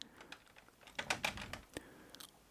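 Rapid, uneven clicks of typing on a stiff laptop keyboard built around a Galaxy Z Fold 3 with a broken inner display. The keystrokes come close and alone, with a dense burst in the middle.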